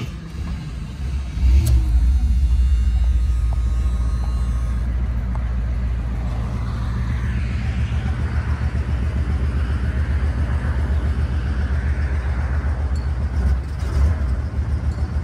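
1976 Cadillac Eldorado convertible with a 500 cubic inch engine running at a steady, deep idle, a continuous low rumble held throughout with no talking.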